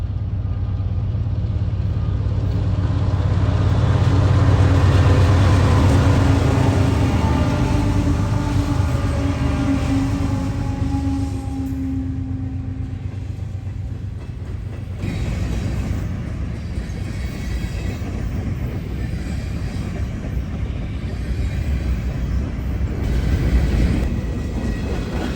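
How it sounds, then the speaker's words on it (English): A heavy, slow-moving train approaches on the tracks, a loud sustained low rumble that swells and holds, with a long horn-like tone in the first half and a steady grinding roll afterward. No one speaks. "It's a slow moving train, but it's coming here slowly."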